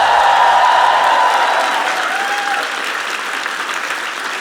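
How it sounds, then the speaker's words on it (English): Dense audience applause filling the room, loud at first and slowly thinning, with a brief faint voice near the start. "Give yourselves a round of applause."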